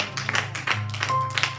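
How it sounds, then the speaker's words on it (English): Rhythmic hand clapping from a church congregation at a praise service, steady claps under sustained music and a held vocal tone. "Come on and clap your hands for Jesus."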